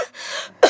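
A short cough sounds nearby, with a rough breathy burst followed by a sharper second hack, close and fairly loud, with no talking.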